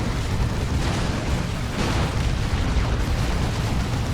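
A Raptors rocket run in the video game Dawn of War 2 during a 3v3 match sounds like dense, continuous explosive rumbling. Loud and steady, the blasts blend into a single roar throughout with no voices.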